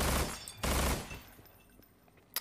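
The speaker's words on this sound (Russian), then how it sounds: "Такой, кстати, приятный звук стрельбы у этой СМГ" A short burst of rapid automatic submachine gun fire in the video game Estranged: Act 1, two loud bursts close together, then quieter clicks and fading echoes.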